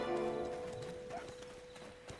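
Horse hooves clip-clop in the game Black Desert Online as a saddled horse walks, a faint steady rhythm of hoof taps over a low background tone, with no talk.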